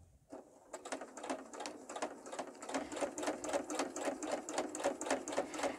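A sewing machine free-motion stitches a fabric pot holder, starting after a brief pause and then running in rapid, even bursts of needle clatter, close and fairly quiet, with no talking.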